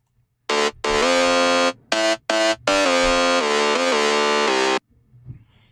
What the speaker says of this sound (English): I used a Backfilia bass preset